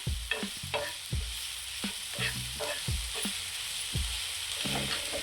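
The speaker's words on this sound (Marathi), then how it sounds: "असं व्यवस्थित हलवून घ्यायचं" Salted tawa masala stirred in a pan: a constant soft sizzle under rhythmic spatula scrapes and clacks, several strokes per second, close and alone.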